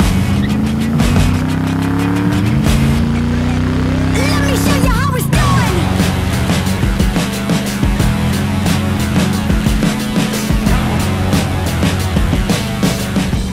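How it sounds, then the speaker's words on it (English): Triumph Stag engine accelerating hard, a loud, close, steady drone that rises in pitch and then drops with a gear change near five seconds before climbing again, with faint tire noise throughout. "I love the acceleration of this car."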